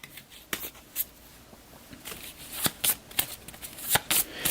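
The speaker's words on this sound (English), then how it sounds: "shuffle all alien encounter cards back into the deck" Alien encounter cards for a board game being shuffled by hand, a run of crisp riffling bursts and snaps repeating unevenly, close and fairly quiet with no talking.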